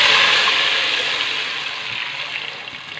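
Water is poured into a pot of pakora kadhi batter, a loud, steady rushing splash that gradually softens over a few seconds, with no voices.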